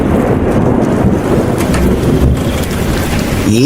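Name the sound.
rain and thunder at night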